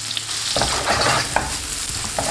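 Onions hitting butter and oil in a hot pan, a close, continuous sizzle with stirring scrapes throughout and no voices.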